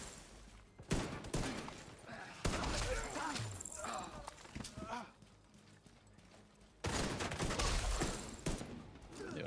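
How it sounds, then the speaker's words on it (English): Heavy gunfire from the video game The Division 2 in dense, loud bursts mixed with thumping impacts, with a player talking over the shooting. "Where am I getting shot from? They're hitting us hard."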